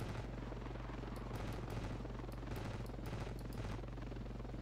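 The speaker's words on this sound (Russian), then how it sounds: "Кто в воздухе? Вражеский вертолет." Enemy helicopter in the video game Ravenfield, a steady droning rotor hum filling the whole stretch, with faint crackles of distant gunfire scattered over it and no speech.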